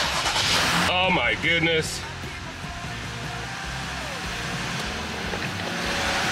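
A car engine left sitting in long storage cranks, catches and keeps running, a steady close rumble with a rising whine as it turns over. A man exclaims in surprise over the noise.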